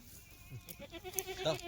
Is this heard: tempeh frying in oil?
no